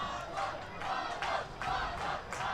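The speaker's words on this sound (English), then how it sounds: "And the crowd's picking it up now." A crowd at a boys high school soccer game chants and cheers in loud, rhythmic rising waves, with no talk.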